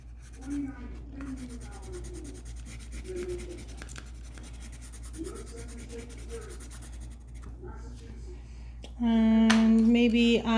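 Pencil shading a drawing on paper, darkening the base of mountains where they meet sand in a dinosaur picture: soft, faint scratchy rubbing strokes over steady background hum, ending with a louder sustained tonal drone.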